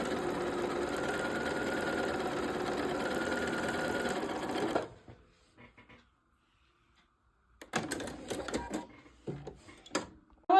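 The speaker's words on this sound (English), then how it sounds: "I take my 1/4-inch foot on my sewing machine, and what I'm going to do is I'm going to sew around all 4 sides" A sewing machine with a quarter-inch foot stitches fabric in a steady, fast whirring run for about five seconds, then stops, leaving near silence followed by faint handling clicks and rustles.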